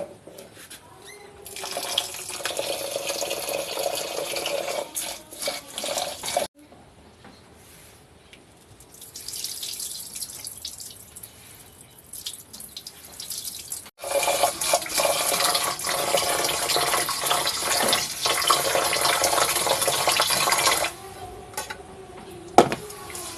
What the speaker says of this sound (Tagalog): hugasan ng hanggang 2 beses ang bigas gamit ang malinis na tubig